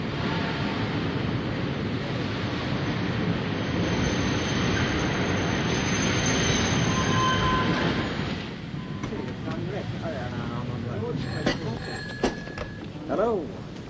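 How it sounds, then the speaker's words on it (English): A steam-era train pulls into a station in a 1941 film, a loud continuous rumble and hiss for several seconds that drops away, followed by faint clatter and a short whistle-like tone. "Train's coming in now."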